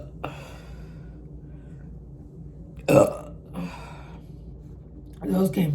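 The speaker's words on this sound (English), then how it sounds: "I'm gonna try to get a little bit more burps out to satisfy everybody's needs." Several deep, loud burps from a person after eating baleadas, coming in separate bursts near the start, middle and end, with quiet gaps between them.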